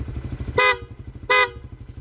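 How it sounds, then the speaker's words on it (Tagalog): Two short, loud beeps from an MXR M85 electromagnetic horn sound over the rapid putter of an idling Suzuki Raider 150 Fi motorcycle engine, spaced well apart. "so busina check tayo guys"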